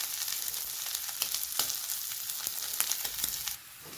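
Boiled potatoes tossed into hot oil in a pan crackle and sizzle loudly with sharp spattering pops, then the frying drops to a softer hiss near the end.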